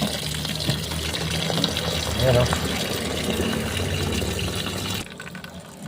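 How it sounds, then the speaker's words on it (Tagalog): Tap water running over freshly caught lake prawns being rinsed, a steady close splashing gush that cuts off near the end, with someone talking over it. "Ayan hugasan yan. Patuluan lang ng tubig."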